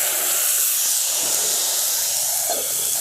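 Water hits a hot pan while pea kulcha cooks, and a loud, steady hiss of steam fills the whole moment close up, with no talking.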